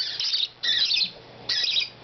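Pet budgies and a parrotlet give close, shrill chirps and squawks in three bursts, each about half a second long, with short gaps of quiet between them.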